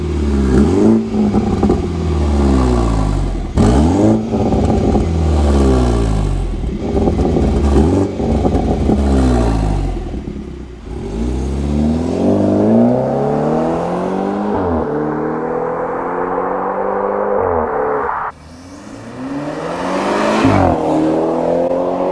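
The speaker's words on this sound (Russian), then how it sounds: "Если там втопить в пол, то уже будет рыкать." A BMW 320i xDrive with M package revs hard in Sport Plus mode, its engine rising and falling through repeated sharp blips, then sweeping up in longer climbs with loud close exhaust growl.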